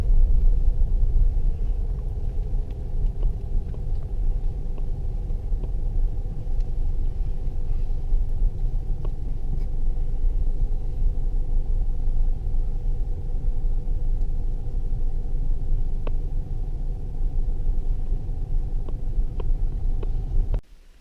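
Four-wheel drive vehicle grinding along a rough four-wheel-drive-only track in the Victorian High Country toward Craig's Hut, a steady low engine rumble and road noise from inside the cabin that runs unbroken for about twenty seconds before cutting off abruptly.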